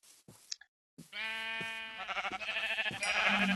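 A sheep in the Minecraft video game bleats. A few faint clicks come first, then a sustained, wavering bleat follows, with louder, layered bleating building toward the end.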